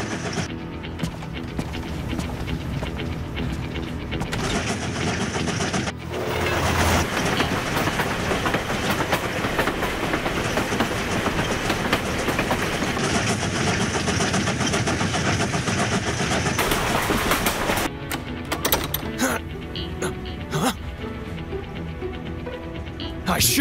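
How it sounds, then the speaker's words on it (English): A train rolls in, a steady heavy rumble with clickety-clack of the rails and car wheels sustained throughout, louder through the middle and thinning toward the end. "The train is arriving."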